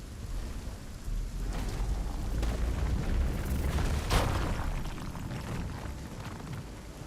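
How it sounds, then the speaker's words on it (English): A rock blows apart in the RuneScape Dragon Wilds video game with a deep rumbling blast that swells and then fades, loud and close with no talk. "Rock explosion."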